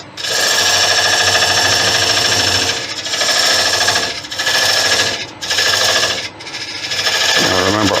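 A wood lathe cuts slowly into the end grain of a monkey puzzle branch, with a loud, close, continuous grinding and rasping as the tool nibbles in, briefly easing off a few times.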